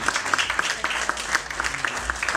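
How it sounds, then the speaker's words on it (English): An audience applauds an award winner at a business partners' recognition ceremony, giving steady, dense clapping throughout with no one speaking over it. "Give him a big round of applause, please."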